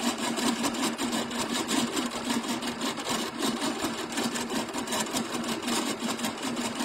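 A sewing machine shirring fabric with tightly wound elastic thread makes a steady, fast rhythmic whir with a dense rattle. It runs continuously at moderate level with no voices.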